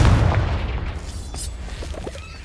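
A Confringo spell explosion in the video game Hogwarts Legacy: one loud, deep boom at the start that rumbles and slowly fades, followed by faint scattered crackles.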